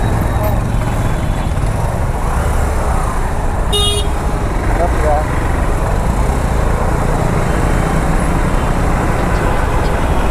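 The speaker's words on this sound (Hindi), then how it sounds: "डेंजर ट्रैफिक है ना इतना सारा ट्रैफिक" Steady roar of heavy road traffic on GS Road, continuous and fairly loud throughout, with a brief high-pitched horn-like tone partway through and people talking faintly over the traffic noise.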